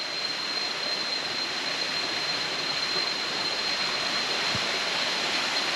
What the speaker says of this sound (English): Oh, waterfall.